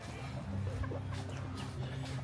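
Chickens cluck in a farm-like back street behind a restaurant in Vietnam, with several soft, irregular clucks over a steady low rumble of nearby traffic and engines.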